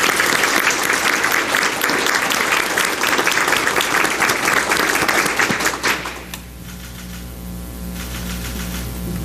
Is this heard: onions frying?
no